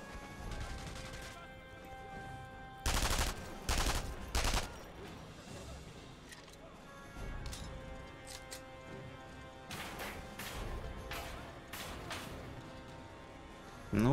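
Rifle gunshots in the Sniper Elite 3 video game ring out as a handful of sharp, loud cracks spaced several seconds apart, with a faint voice murmuring between them.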